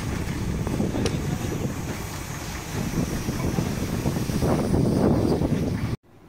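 A fishing boat is launched back into the sea after fifteen days out of the water, a steady loud rush of wind and surf that runs without a break and then cuts off suddenly at the end.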